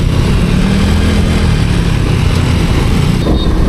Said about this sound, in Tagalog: Kahit malayo pa lang maririnig mo na yung hagok ng makina nila eh.